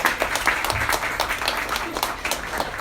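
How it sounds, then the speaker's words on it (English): Audience applause following a speech at a discussion event on energy sustainability: a steady, dense wash of many hands clapping, moderately loud and continuous for a few seconds, with no talking over it. "customary applause after the speech"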